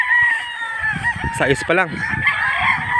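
Young gamecock stags, three to four months old, crow in a forest at six in the morning, one close, loud cock-a-doodle-doo rising over softer clucking and more distant crowing, with someone speaking briefly.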